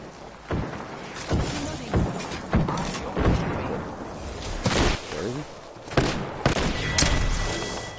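Repeated sharp gunfire blasts, including shotgun shots, in the video game Apex Legends, with loud broadband bursts every second or so over a busy game soundscape and some voice chatter.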